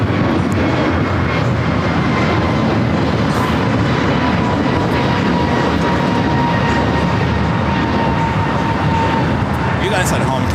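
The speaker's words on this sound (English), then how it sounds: "That was American Airlines 1528 taking off to Philly on the A321neo." American Airlines A321neo taking off at LAX, a loud continuous broadband jet engine roar that holds steady throughout, heard from nearby without talk.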